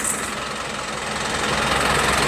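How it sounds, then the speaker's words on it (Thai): A six-wheel pickup truck built to carry durian idles through an S-type exhaust pipe, giving a steady, rough, low knocking rumble that stays loud and even throughout, with no talking. "ท่อไอเสียช่างติ๊กโพธาราม ท่อตัว S"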